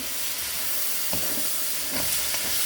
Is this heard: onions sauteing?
yes